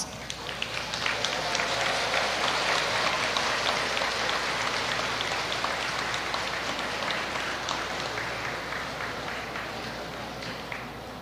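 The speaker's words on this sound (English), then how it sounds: "graduates, you should rise and applaud your parents, your sponsors, your guardians" Graduates rise at a 111th commencement ceremony to applaud their parents and sponsors, a dense, steady roar of crowd clapping that holds for about eleven seconds and fades slightly at the end.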